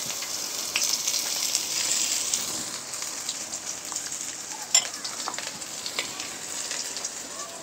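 Onion and garlic fry in a pan with a steady, close hiss and crackle throughout, broken by occasional stirring scrapes and one sharper tap.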